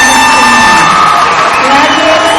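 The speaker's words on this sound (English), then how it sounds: "if you will show your applause and congratulate the class of Pratt" Audience at a Pratt Community College 2017 commencement cheering and whooping for graduates in an arena, a loud, sustained wash of shouts and applause.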